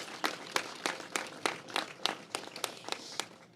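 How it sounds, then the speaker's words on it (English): At a press event for Women's Equality Day, a small audience applauds with distinct claps at a fairly steady pace, lightly layered, brief and moderately near. "Let's give a round of applause for that"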